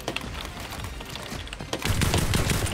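Rapid gunfire in the Fortnite video game, a steady crackle of shots that grows louder and denser in the second half, with no talk over it.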